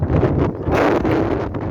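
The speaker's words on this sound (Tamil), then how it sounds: "காற்று வந்துட்டு பேலன்ஸ் பண்ண முடியல கைஸ், ஃபோனே தருது அளவுக்கு காற்று தெரியும்" Strong wind buffets the microphone at a dam viewpoint, a loud, rumbling roar that swells and eases in gusts.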